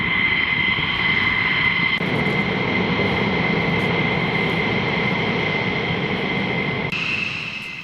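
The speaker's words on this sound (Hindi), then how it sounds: "इजरायली जेट्स जिन्होंने उड़ान भरी इजरायली एयरबेस से" Israeli fighter jets flying on an air strike mission give a loud, steady, broadband jet engine roar that persists throughout. A shift partway through suggests a cut between shots. No one speaks.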